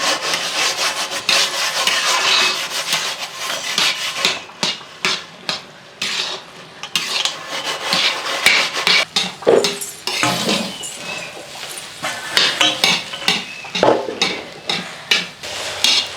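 A spoon scrapes and stirs thick upma in an iron pan over low flame, steady rhythmic rasping strokes close up with no talk.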